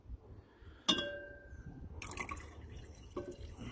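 Water drips and trickles while silver powder is rinsed in a glass vessel. A sharp clink sounds early, then quiet pouring and dripping follow, soft and close.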